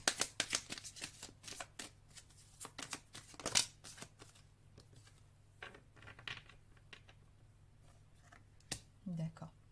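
Oracle cards being shuffled and drawn, with quick papery riffles and slaps clustered at the start, then scattered card snaps and flicks, close and crisp, with a voice speaking briefly near the end.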